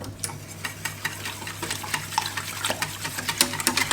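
A whisk stirs milk and cream into a roux in a pan, making a steady, rapid scraping and swishing rhythm with faint liquid sloshing, close by and without speech.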